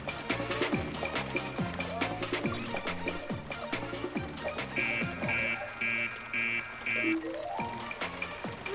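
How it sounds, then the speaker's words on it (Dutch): An alarm goes off in a Cry Babies cartoon: a run of evenly spaced, high electronic beeps sounds over the busy background music. "ze heeft niet eens gekeken waarom het alarm afging"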